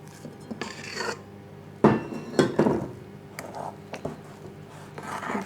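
Whisk working gently through gluten-free batter in a bowl, with soft scraping strokes and a few louder knocks against the bowl's side, fairly close and with no talking.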